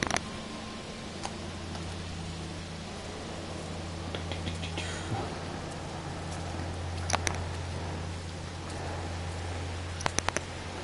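Freezing rain patters steadily on an icy planet in a video game, a soft continuous hiss with low rumbling ambience underneath and a few faint clicks.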